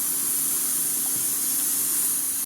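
A pressure cooker boiling potatoes releases steam in a loud, continuous, close hiss that holds steady and then cuts off abruptly.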